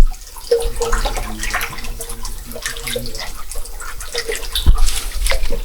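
Clear spring water flows steadily through a forest, a continuous close gurgling and rushing that holds at an even level throughout.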